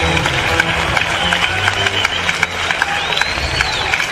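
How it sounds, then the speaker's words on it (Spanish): Concert crowd at a show in Águilas claps and cheers, a loud, dense rattle of applause with scattered sharper claps and a voice heard faintly beneath. "Un aplauso para vosotros mismos."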